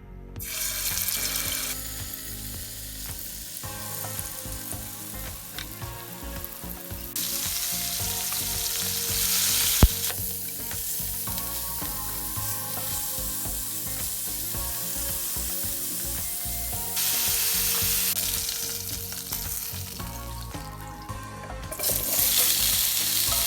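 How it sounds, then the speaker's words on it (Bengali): Rita fish pieces and cut potatoes frying in hot oil, a steady close sizzle that swells louder in bursts as pieces go into the pan, with a brief sharp clink near the middle. "আমি এখন মাছ এবং আলুগুলোকে একে একে ভেজে নিব।"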